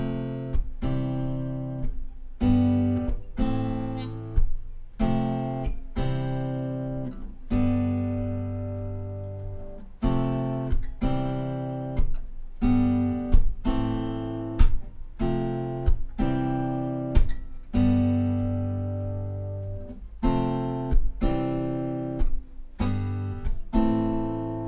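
Guitar chords of the chorus of a song, strummed in a steady rhythm with sharp accents and ringing chords, close and alone throughout.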